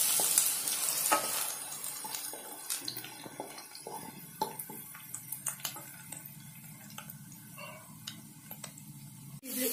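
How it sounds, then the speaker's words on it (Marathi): Green chilies frying in oil over a low gas flame, a steady close sizzle with scattered crackles and occasional stirring taps. "गॅस कमी करून घ्यायचा आहे, मिरची शिजू द्यायची"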